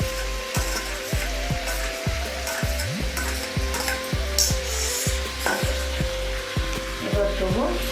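Tomatoes, green chillies and peas sizzle in a kadai, a constant frying hiss broken by regular scraping strokes of a stirring spoon against the pan, close and fairly loud.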